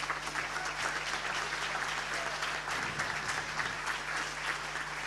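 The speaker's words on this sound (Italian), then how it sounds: "Un applauso per Mirko Castellani." Warm, continuous applause from the crowd at the Veneto Paralympic Sports Gala honoring a swimming coach, steady clapping with faint voices and a low hum underneath.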